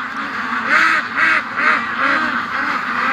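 Several ducks quack repeatedly on a windy day, a rhythmic series of loud, close honking calls over a constant wind rush.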